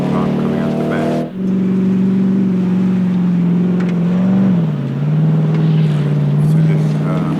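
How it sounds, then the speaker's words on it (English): A 2023 Ford Raptor R pickup truck engine rumbles and revs steadily with a deep exhaust note, holding a low throbbing drone that dips briefly and rises again. "I love the sound. You got the exhaust right."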